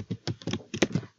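Fingers tap on a laptop keyboard in a quick, uneven burst of about a dozen crisp, close keystrokes over a second, with no other sound.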